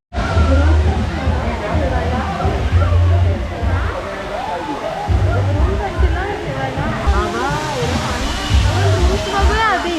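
Water rushes and splashes steadily at a water resort, a broad continuous roar with a busy hum of people, while nearby voices talk excitedly over it throughout.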